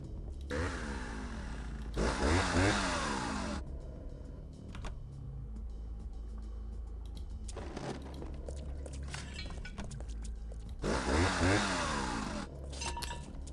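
A chainsaw in the video game Vampire: The Masquerade roars in loud, sustained bursts that rise and fall over a low rumbling background, stopping and restarting several times.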